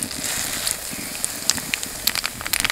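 Black cumin seeds (kalonji) crackling in hot mustard oil with dried red chillies for a garlic pickle, a steady close hiss dotted with sharp little pops that grow more frequent toward the end.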